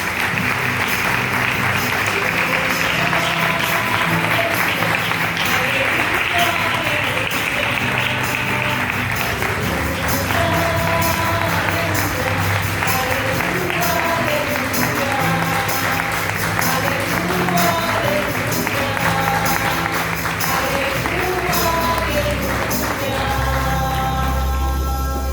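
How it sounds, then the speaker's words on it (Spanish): A church congregation applauds together after a Gospel reading, steady sustained clapping mixed with a little crowd noise, with music carrying on beneath it throughout. "Dale un aplauso a esta palabra"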